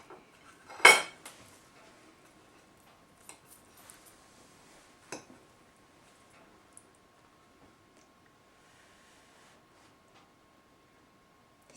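A spoon scoops sweetened yogurt onto a plate of pancakes, giving one sharp clink of cutlery on the plate near the start and a few fainter taps afterward, all close by in an otherwise quiet kitchen.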